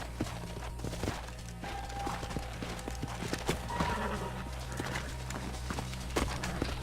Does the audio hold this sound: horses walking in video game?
yes